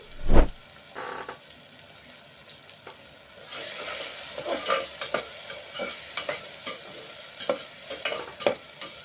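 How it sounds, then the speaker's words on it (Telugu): Tomatoes cooking in a pan for mutton kurma: a sharp clang near the start, then a soft steady sizzle with scattered stirring scrapes and clicks, fairly quiet and without talk. "ఇది కొద్దిసేపు ఒక రెండు నిమిషాలు ఈ టమాటా బాగా ఉడకాలండి"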